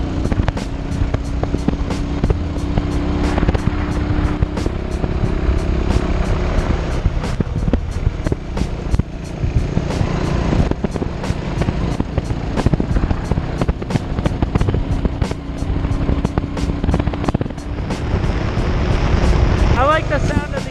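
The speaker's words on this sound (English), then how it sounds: "I think the exhaust sounds nice." Exhaust note of a Buell Blast motorcycle, a steady low engine rumble with rapid ticking pulses running throughout at a fairly loud, even level, with someone speaking over it.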